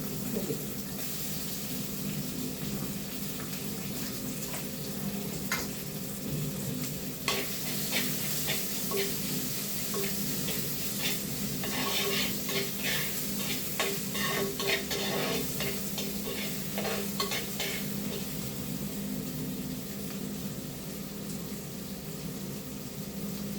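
Sliced onions with curry leaves fry and sizzle steadily in a pan for a Kerala-style country chicken curry, with a close, continuous hiss and bursts of stirring and scraping clatter in the middle, no talking.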